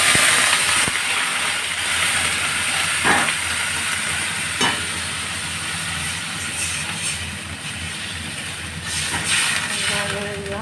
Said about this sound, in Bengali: এবার আমি জলটা ঢেলে দিচ্ছি।